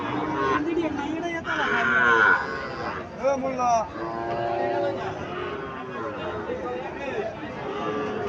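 A Sahiwal heifer calf at a crowded cattle market in Comilla moos a few times, its calls partly buried under people talking and background chatter.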